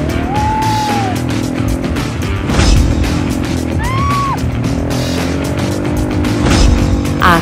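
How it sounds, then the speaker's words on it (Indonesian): ATV engines race along a beach, a loud steady whine with brief rising and falling pitch sweeps as the quad bikes accelerate past, occasional bursts of wind and surf noise. "Aku dan Sila memacu motor ATV balapan di pinggir pantai."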